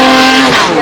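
Aston Martin DB12 sweeping past at the Goodwood Festival of Speed, a loud, close engine note rising in pitch, then dropping as it passes in under a second.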